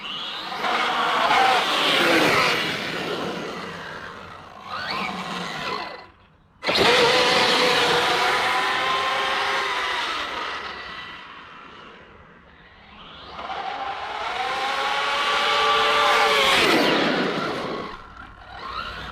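A Kyosho KR8S RC car with a Dynamite 1200KV motor and 19-tooth pinion whines loudly as it speeds up and slows down in several long surges, with brief pauses between runs.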